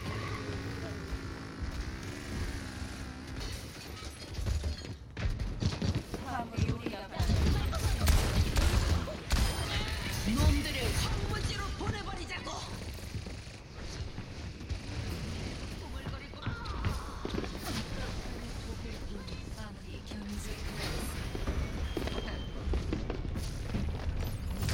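Bomb explosions and booming blasts fill a chaotic video game battle, dense and continuous with gunfire-like bursts, while a voice speaks over the din.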